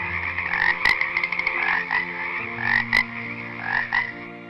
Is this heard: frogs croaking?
yes